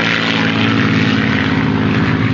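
A propeller airplane drones loudly and steadily overhead in a cartoon, its engine buzz unbroken and close throughout with no voices.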